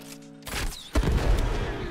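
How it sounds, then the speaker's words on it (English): A Kuva Bramma bow explosion in Warframe lands with a sudden, loud booming blast about halfway through, followed by a dense, rumbling burst of impact noise that keeps going to the end. "Anyone who was hit by the initial explosion just died immediately."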